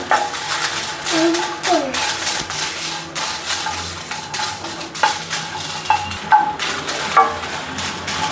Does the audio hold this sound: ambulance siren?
no